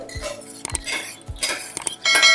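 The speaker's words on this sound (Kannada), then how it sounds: "ಈ ಬಾಯ್ಲ್ಡ್ ರೈಸನ್ನು ನಾನು ನೆನೆಸಿ ತೊಳೆದು ಇಟ್ಟಿದ್ದೇನೆ ಸೊ ಅದನ್ನು ಈಗ ಕುಕ್ಕರ್ಗೆ ಹಾಕ್ತಾ ಇದ್ದೀನಿ" Soaked and washed boiled rice goes into a pressure cooker for a rice gruel, with close metallic clinks and scrapes of a utensil against the vessel, then a louder rushing pour at the end.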